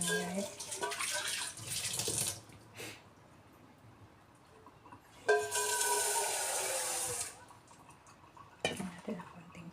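Tap water runs as ingredients, including sweet potato for the Filipino snack bilo-bilo, are washed in a kitchen sink; two bursts of splashing flow with quieter gaps between, close by.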